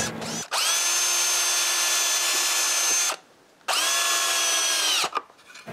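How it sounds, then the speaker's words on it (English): A power drill whines loudly in two long bursts separated by a short pause, then a brief stutter at the end. "I didn't drill any screw holes at all, so now I need to take care of that."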